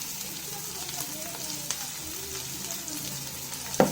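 Beans, carrot, cabbage and capsicum fry in a pan for an egg rice dish, giving a steady sizzling hiss with faint stirring clicks and a sharper scrape near the end.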